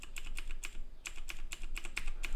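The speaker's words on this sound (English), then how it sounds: "Keyboard, I would have thought it would do" Rapid computer keyboard typing picked up by a USB podcast microphone, a steady run of crisp key clicks in irregular bursts, fairly close and alone with no talking.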